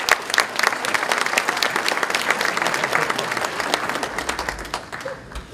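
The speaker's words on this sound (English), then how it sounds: "Let's all give them another round of applause." Audience applause fills the room at a Chamber awards gala, many hands clapping in a full, sustained burst that gradually tapers off, with a few scattered claps at the end.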